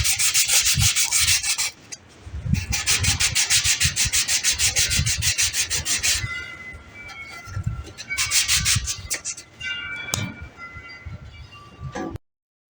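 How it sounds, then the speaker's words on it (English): Hand sanding a solar outdoor light in quick, rhythmic back-and-forth strokes, close up, broken by short pauses and a few light clinks. "So let's get to sanding."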